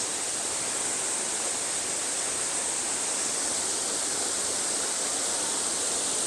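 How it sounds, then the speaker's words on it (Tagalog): Pangi Falls in Eastern Samar pours in a steady, dense rush of broadband white-noise roar, unbroken and fairly strong throughout, with no voices. "Falls!"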